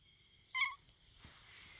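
A Siamese cat outdoors gives one short, faint meow, then the surroundings go quiet.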